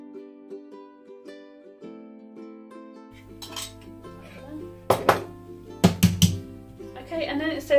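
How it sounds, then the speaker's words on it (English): Coconut oil body lotion, made from solid cold-pressed coconut oil, being mixed in a bowl, with a series of clinks and scraping knocks of a utensil against the bowl that grow louder toward the end. "it says to mix it up until it comes to a light and fluffy consistency"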